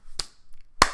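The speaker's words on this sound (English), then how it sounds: "Clap. It's a clap." Two sharp, distinct hand claps about half a second apart, the second louder, each a quick broadband crack with near silence between them.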